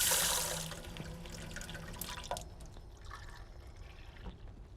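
Water splashes into a blender for pie filling, a loud pour at the start that fades into softer trickles and drips in a kitchen.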